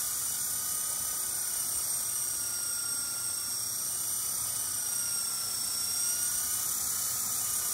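A Blade 120S2 RC helicopter hovers in calm air, a continuous high-pitched rotor and motor whine, steady and unbroken throughout.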